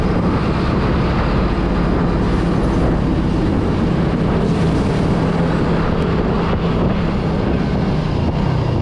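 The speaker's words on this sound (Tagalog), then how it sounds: "Mukhang tabla ito, mahangin. Mahangin." Loud, constant wind roar buffeting the microphone while riding a Suzuki Raider 150 Fi motorcycle, with a low rumbling engine drone underneath, steady throughout with no voices.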